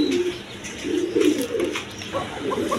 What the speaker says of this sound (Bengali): এক পেয়ার বাসিরাজ কবুতর